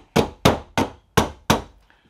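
A hammer taps a rifle handguard off a Henry pistol-caliber rifle, giving five sharp, evenly spaced metallic knocks, loud and close, each ringing briefly before the next strike.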